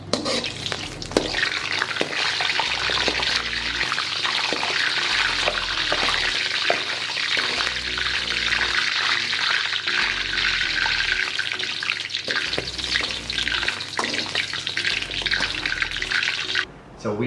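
Dehydrated garlic cracker chips fry in oil with a loud, continuous bubbling hiss and crackle, steady throughout and cutting off abruptly at the end, with no one talking.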